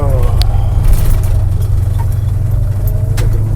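A semi truck rumbles past on the road while a vehicle idles nearby. The deep, steady engine drone stays loud and close throughout, with a few faint clinks over it.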